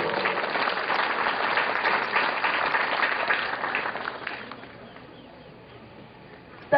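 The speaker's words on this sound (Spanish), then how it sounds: "Recibamos con fuerte y caluroso aplauso." Warm, sustained applause from an audience at a primary school ceremony welcoming the school director, steady and dense for several seconds before thinning out and fading near the end.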